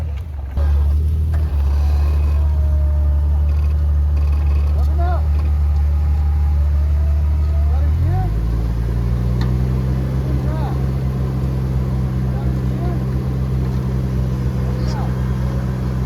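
A Jeep JK's engine drones steadily while climbing a hill at an off-road park, loud and close, shifting to a higher pitch partway through, with some talk over it.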